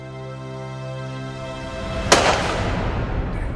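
A single loud rifle shot fired while hunting, a sharp crack that cuts in over music and trails off in a rumbling decay.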